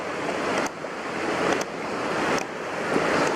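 Water gushing from the hose of a non-electric water pump, a loud continuous rushing splash that surges in slight pulses, heard up close with no talking.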